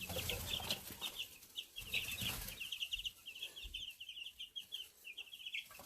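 Young Austro white chicks cluck and peep in a busy, overlapping chorus, close and fairly soft, with some rustling and brief wing flutter early on.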